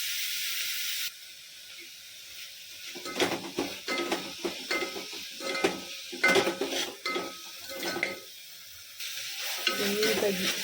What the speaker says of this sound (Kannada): ನೆಕ್ಸ್ಟು ಇದಕ್ಕೇ ನಾವು ಹೆಚ್ಚಿಟ್ಟುಕೊಂಡಿರೋಂಥ ಮೆಂತ್ಯ ಸೊಪ್ಪು ಹಾಕ್ಕೊಳ್ಳೋಣ, ಮತ್ತು ಕೊತ್ತಂಬರಿ ಸೊಪ್ಪು ಹಾಕ್ಕೊಳ್ಳೋಣ. ನೀಟಾಗಿ ಫ್ರೈ ಮಾಡ್ಕೊಳ್ಳೋಣ.